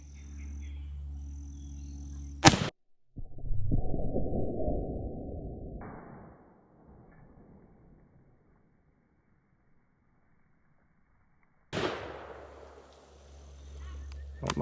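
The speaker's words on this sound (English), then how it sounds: "Try to shoot through that log and into that steel plate." A single loud, sharp shot from an 1886 lever-action rifle firing a 550-grain subsonic bullet at a log backed by a steel plate outdoors, followed by a long decaying rumble, then silence before another sharp report near the end.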